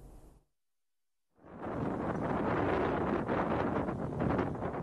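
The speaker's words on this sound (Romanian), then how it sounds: "sunetul de fond dovedește că într-adevăr vântul bătea cu putere" Strong wind batters the microphone beside tall steel panels of the US–Mexico border wall, a loud continuous roaring gust that cuts out briefly near the start and then returns at full force.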